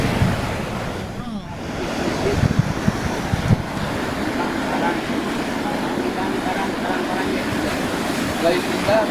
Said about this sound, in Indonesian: air laut, ombak-ombak